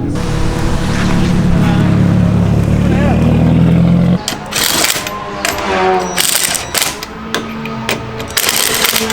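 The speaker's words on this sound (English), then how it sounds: "This engine goes ham." A Toyota Corolla engine drones loudly at steady high revs while drifting, then cuts off abruptly, followed by sharp bursts of noise and people talking nearby.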